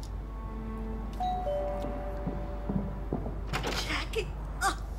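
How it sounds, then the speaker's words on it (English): Doorbell ringing in the video game The Darkness, a clear two-tone ding-dong chime near the start followed by faint thuds and brief vocal sounds. "Ring doorbell."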